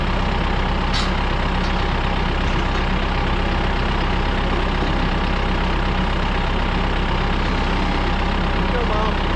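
A tractor engine idles on a farm during a calf rescue, a loud, steady low rumble that runs unbroken the whole time, with a few faint clicks and rattles on top.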